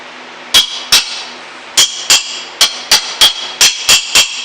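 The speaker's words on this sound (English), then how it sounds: "We'll bang them with a hammer to make them nice and tight" Sharp metallic hammer taps on bolts, about eleven strikes in irregular pairs and runs, close and loud with ringing overtones, no talking.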